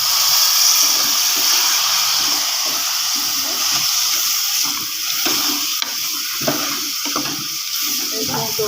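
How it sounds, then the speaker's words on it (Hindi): Water added to a pan of bottle gourd with turmeric and dried coriander, giving a steady loud hiss and sizzle of frying with faint stirring scrapes, no talking. "थोड़ा सा पानी डाल के इसको हम भून लेंगे।"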